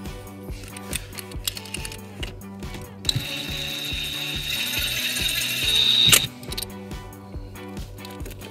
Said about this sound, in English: And then we're going to take an M8 nut and we're going to get it started. And then we'll secure it with a 10 millimeter socket.